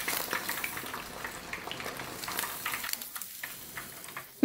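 Picanha beef frying in hot oil, a steady broadband sizzle with crackling pops, continuous and fairly close, alone without talk, ending in a sudden loud burst.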